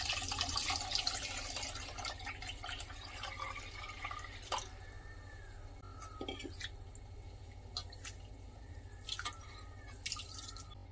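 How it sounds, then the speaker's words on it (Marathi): Rice is washed in water, with faint trickling, dripping and splashing and a few light knocks of a vessel, all quiet and close with no talking. "तांदूळ स्वच्छ धुवून घ्यायचा आहे"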